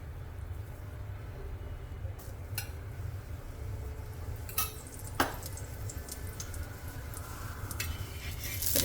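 Sweet wheat flour koki fries in oil on a griddle, giving a soft steady sizzle with a few sharp clinks of a utensil scattered through it.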